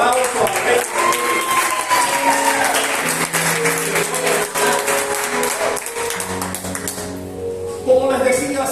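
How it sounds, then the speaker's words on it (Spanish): A church congregation claps loudly in applause for God during a service, the clapping mixed with music and voices speaking over it. "¿Por qué no damos un fuerte aplauso a Dios?"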